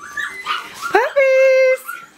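Close, high-pitched whimpering and short yips from six-week-old puppies, including one sustained whine, with a voice speaking briefly among them.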